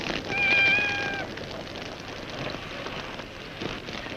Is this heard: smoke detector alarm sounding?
no